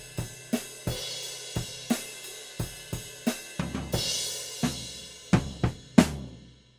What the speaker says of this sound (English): you're going from your floor tom into your crash cymbal again